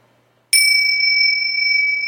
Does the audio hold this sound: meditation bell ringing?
yes